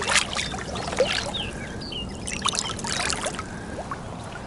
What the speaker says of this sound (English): Hopefully you ain't got the camera all wet